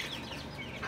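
Chickens on a small family flock, a steady soft clucking and rustling close by, with no voices over it.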